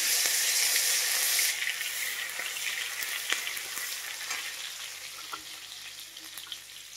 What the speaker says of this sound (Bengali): এবার এই চিনিটা একটু ঘাঁটালাম যাতে চিনিটা একটু উঠে যায়